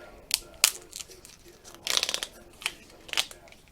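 Insulation being peeled and torn off copper wire, a series of sharp crackling rips and snaps at irregular intervals, close and fairly quiet.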